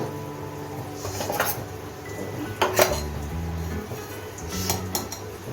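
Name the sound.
mixing ground spices into a paste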